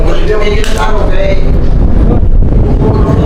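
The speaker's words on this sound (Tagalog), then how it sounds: "Mahangin naman eh." Steady, loud wind rumble buffets the microphone throughout, a dense low roar with no letup.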